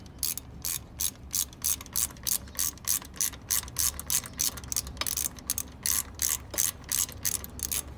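A hand ratchet clicks in a steady, even rhythm as it tightens the lock bolt on a Ford Ranger 2.3 timing belt tensioner, each crisp close pawl click repeating about three times a second.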